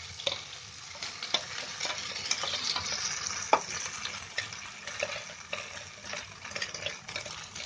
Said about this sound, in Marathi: त्याच्यामध्ये हे आपलं वाटलेलं मिश्रण आहे ना ते टाकायचं